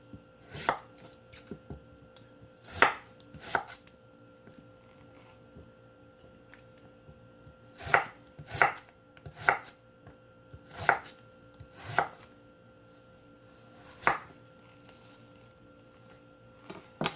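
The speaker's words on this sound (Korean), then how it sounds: "무는 얇게 얇게 썰어줍니다." A knife thinly slices radish on a cutting board, chopping sharply in irregular bursts, some strokes single and some in quick pairs, with quiet pauses between.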